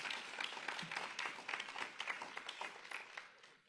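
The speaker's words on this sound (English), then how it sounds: "So let's really join and give them a round of applause." A short burst of applause from a small crowd, scattered claps rising and thinning out, heard at moderate distance.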